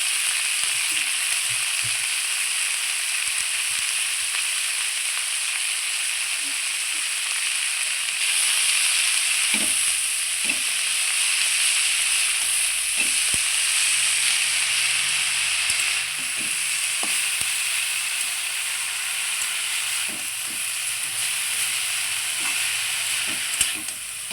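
Whole bota greens fry in hot oil, a loud continuous sizzle and hiss running throughout with occasional soft clicks and stirring sounds, no talking.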